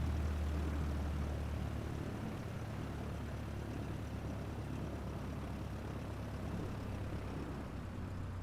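A small propeller airplane taxis toward a hangar at an old small airfield in Eureka, California, with a continuous low engine and propeller drone that stays steady and moderately quiet throughout.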